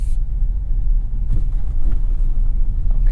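A 2023 Jeep Compass rolls along a trail, giving a steady low engine and tyre rumble close by, with faint bumps and rattles rising briefly over the drone.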